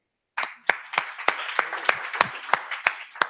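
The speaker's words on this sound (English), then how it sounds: "Please give yourself an applause" Applause at a JavaScript crash course, starting after a moment of silence with sparse, distinct claps from a small group at a steady, loose rhythm, fairly close and clear.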